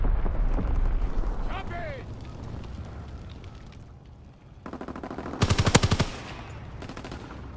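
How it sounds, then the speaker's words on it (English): Call of Duty WWII combat roars with rumbling bomb blasts, then rapid machine-gun bursts rattle in loud, dense volleys near the end. "Enemy bomb incoming."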